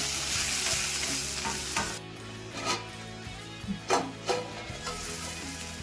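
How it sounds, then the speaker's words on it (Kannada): Vegetables salted and stirred in a hot pan for restaurant-style noodles, with a steady sizzle and a spatula scraping and tossing in irregular strokes, close and fairly quiet, with a low steady hum underneath. "ಒಂದ್ಸರಿ ಮಿಕ್ಸ್ ಮಾಡ್ಕೊಳ್ಳೋಣ ತರಕಾರಿನೆಲ್ಲ."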